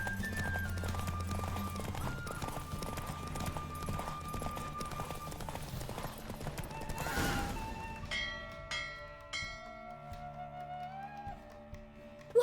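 Horse galloping in a race in The Witcher 3, rapid hoofbeats pounding steadily at moderate volume under game music and ambience, fading toward the end.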